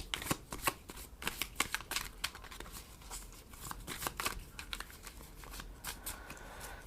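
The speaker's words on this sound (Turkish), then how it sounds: "Bir kart çekeceğim." Tarot cards are shuffled and one is drawn: quick papery riffles and flicks arrive in irregular bursts, close and crisp, over several seconds with no voices.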